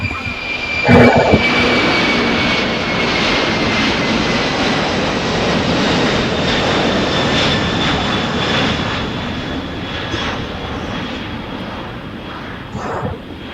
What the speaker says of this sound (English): Just departing here is Atlas Air Cargo.